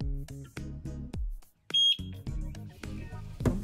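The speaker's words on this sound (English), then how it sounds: "Okay, heard a beep." A single short electronic sync beep from a eufy Security C24 outdoor camera sounds midway, clear and close, amid intermittent clattering and handling noises.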